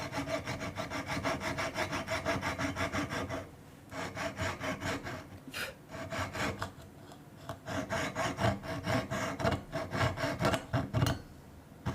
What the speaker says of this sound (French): la journée va être consacrée à découper, à finir ses alliances